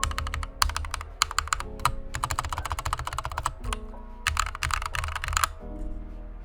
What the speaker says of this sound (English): here's a quick sound test of the keyboard